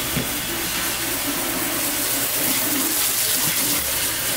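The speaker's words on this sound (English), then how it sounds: "So let me wash this shit out of my face." Tap water runs steadily at a bathroom sink while someone washes toothpaste-like product off their face, a continuous close hiss and splash with no talking.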